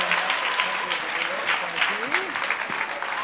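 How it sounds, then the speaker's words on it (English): An audience at a national dance competition gives sustained applause for young dancers, steady clapping throughout with a voice speaking over it. "Give them a nice big round of applause."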